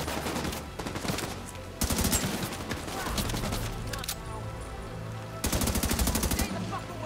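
Sustained gunfire in a Tom Clancy's The Division 2 shootout, loud bursts of rapid automatic fire in dense volleys with brief lulls between them and no speech over the shooting.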